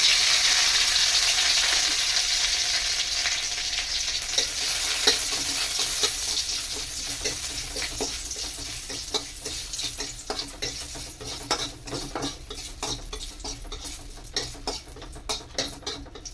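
Neem leaves fry in hot ghee with a loud hissing sizzle that gradually settles into rapid crackling and spitting pops, while a utensil stirs through the pan.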